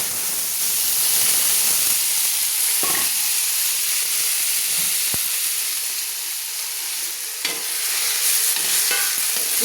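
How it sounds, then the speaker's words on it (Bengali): Washed moong dal sizzling and frying in hot oil inside a wide bowl for vegetable khichuri, a steady loud hiss with occasional stirring clinks and scrapes. "মুগ ডাল না ভাজলে"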